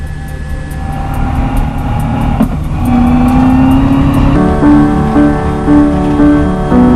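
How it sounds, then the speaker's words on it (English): A Toyota rally car in the Dakar 2018 rally drives steadily with a loud, continuous engine drone that climbs in pitch as it revs up, with no talk over it. "They do eventually manage to get the car fixed and back on its way."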